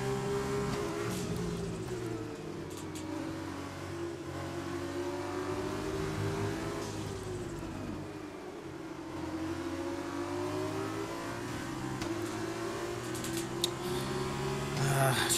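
Formula 2 race car in the F1 2020 video game at the Austria sprint race, its engine droning steadily with rising and falling pitch through gear changes across the whole lap section, loud and continuous with faint talk underneath.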